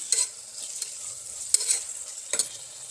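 Chopped tomatoes fry in hot oil in a pan for cabbage pulao, giving a steady close sizzle broken by a few sharp scraping stirs of the spoon.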